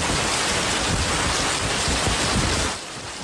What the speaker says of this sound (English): Heavy rain was accompanied by thunder, lightning, hail and strong winds